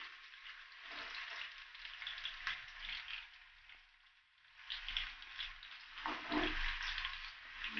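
Onions frying in hot oil in a pan, a steady bright sizzle with a short dip partway through, then loud spluttering and crackling with a few low knocks, no voices.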